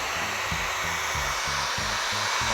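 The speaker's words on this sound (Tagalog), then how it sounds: "Ilagay sa pinakamainit na setting itong dryer natin, ang blower natin." A handheld hair dryer blows on its hottest setting, a loud, steady whooshing roar with a rhythmic pulsing motor hum running underneath throughout.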